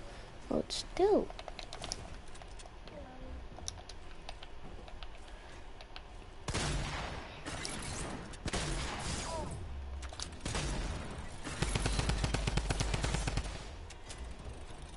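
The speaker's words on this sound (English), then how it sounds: "You have to use the drum gun to actually damage me." Drum gun fire in a video game comes in several loud rapid bursts later in the stretch, with game noise and sparse chatter between them.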